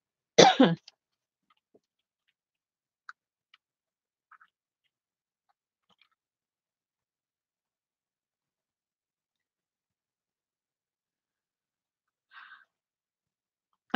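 A single sharp cough at the start, then long near-silence with a couple of faint clicks and a brief soft sound later.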